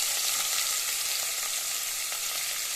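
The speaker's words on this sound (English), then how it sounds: "so I'll start fry up" Food sizzles steadily in a hot pan in a home kitchen, a dense, even crackle of frying that holds at a constant level throughout with no voices over it.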